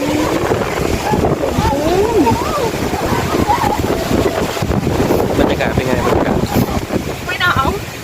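Strong cold wind at the Pha Mo I Daeng mountain cliff viewpoint buffets the microphone in a continuous loud roar with gusty surges, while people talk through it.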